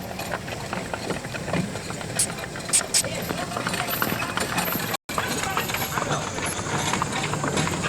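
Hooves of a pair of horses clip-clopping steadily while pulling a homemade surrey built on old running gear at a German festival picnic, a continuous rhythmic clatter with voices talking over it.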